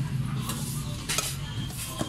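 Utensils mix food at a family grill restaurant, producing soft, scattered clinks and scrapes against a dish over a steady murmur of background noise.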